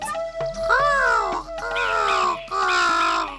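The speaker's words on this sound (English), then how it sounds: "The parrots squawk and this crow cawing." Three loud, harsh crow caws in quick succession, each call drawn out and raspy, close by.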